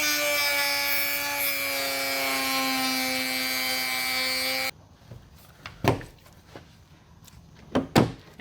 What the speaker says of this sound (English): I'm gonna need the barrel sander on the Dremel for down here anyway